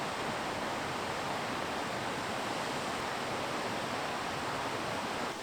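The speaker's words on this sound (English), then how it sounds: "I can hear rushing water." Rushing river water in the hills of northern England, a steady broadband roar at low level that holds unchanged throughout, with no voices.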